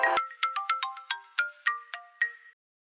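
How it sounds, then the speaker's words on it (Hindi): A mobile phone ringtone plays a quick, bright melody of short chiming notes for about two and a half seconds, then stops. "मेरे बच्चे का फोन आ रहा है।"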